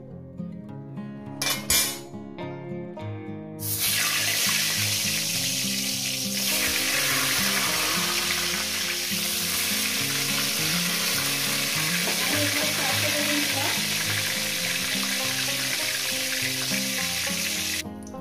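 Eggplant pieces sizzle loudly in hot oil, a dense, steady frying hiss that bursts in after a few seconds of clattering as the slices are lowered in, then holds strong and close.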